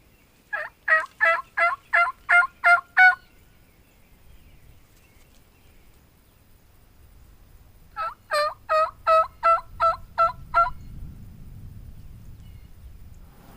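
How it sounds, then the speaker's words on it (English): Wild turkeys gobble in two distinct bursts of rapid, rattling calls, each a quick string of about eight pulses, fairly close in an open outdoor setting with quiet pauses and light background rustling. "They just gobble behind us."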